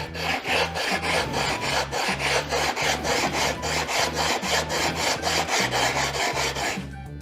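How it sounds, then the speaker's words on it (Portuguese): A sharpening stone scrubs back and forth against a porcelain tile in rapid, regular strokes, loud and close, with a steady rasping rhythm of about three strokes per second and no talking. "Eu pego a pedra, o lado que eu vou precisar arrumar, e eu vou esfregar contra o porcelanato."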